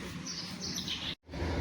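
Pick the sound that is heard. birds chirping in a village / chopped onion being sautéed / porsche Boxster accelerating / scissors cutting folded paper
birds chirping in a village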